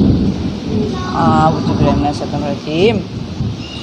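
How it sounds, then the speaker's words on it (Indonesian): Rain falls steadily with rolling rumbles of thunder on an early-February day, a broad continuous wash under a voice that talks over it throughout. "Hari ini hujan plus gluduk-gluduk ya."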